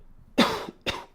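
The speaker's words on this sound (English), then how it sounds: "I muted it because I coughed." A single person coughs twice in quick succession, close to the microphone, a sharp harsh burst followed by a shorter second one, in an otherwise quiet room.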